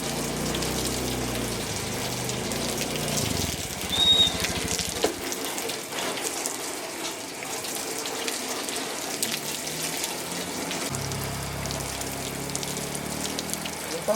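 Steady rain pours down on a rural Minangkabau setting, a continuous broadband hiss of water falling and splashing close by, with no talk.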